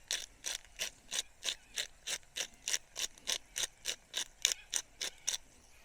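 A pepper grinder cranks over paella cooking outdoors by a river, giving a close, rhythmic series of about twenty dry ratcheting crunches at an even pace, without speech.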